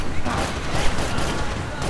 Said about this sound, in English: No, I hear people shooting at me.